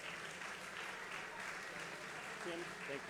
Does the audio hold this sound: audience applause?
yes